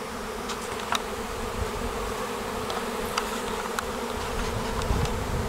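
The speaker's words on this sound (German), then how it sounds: "Tausende von Bienen, ein Schwarm ist bei einem Muttervolk gegangen" A dense, steady drone of thousands of swarming honeybees leaving a parent colony fills the air without pause, with occasional individual bees zipping past close by.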